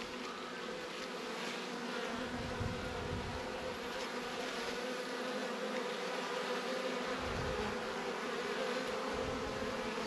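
Honey bees buzz continuously around a nucleus hive, a dense steady drone close by with no pauses.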